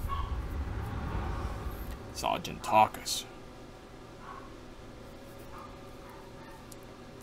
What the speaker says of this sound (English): My neighbor's dog is quite yappy this morning.